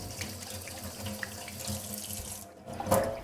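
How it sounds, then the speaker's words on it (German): A kitchen tap runs while hands are wetted for shaping dough balls, a close, steady stream of water into a sink that stops briefly, then resumes with a splash. "Ich benetze dazu meine Hände mit Wasser"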